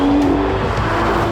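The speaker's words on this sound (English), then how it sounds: "It's got a huge V12, it's loud, it's beautiful," Aston Martin DBS with a 715-horsepower V12, rear-wheel drive, roaring loud and close in a short, sustained burst with a steady engine tone.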